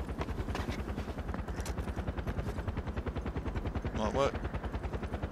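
Rapid automatic gunfire from the video game Far Cry 4, a steady near, loud burst pattern running throughout, with a brief voice speaking over it near the end.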